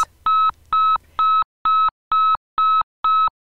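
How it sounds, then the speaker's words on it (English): A building evacuation fire alarm, a repeating electronic tone of seven evenly spaced loud beeps in a steady on-off rhythm, with faint background rumble at the start. "Cambrian's evacuation alarm and message will sound like this"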